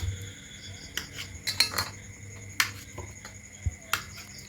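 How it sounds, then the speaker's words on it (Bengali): Knife slicing through boiled potatoes on a board for a paneer and potato dum curry, with a few separate soft cuts and clicks spaced over several seconds, quiet and close. "এবার এগুলো মাঝখান থেকে কেটে নেব এভাবে"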